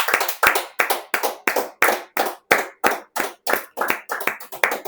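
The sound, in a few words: church congregation applauding the Lord after the sermon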